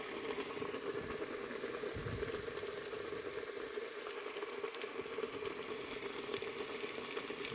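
Oil heating in a pan while being stirred, a steady bubbling, frying hiss with faint occasional scrapes, close and continuous.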